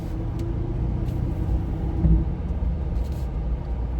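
A 2024 Corvette E-Ray hybrid drives on a track with a deep, low engine rumble that holds steady and swells slightly midway, heard from inside the car.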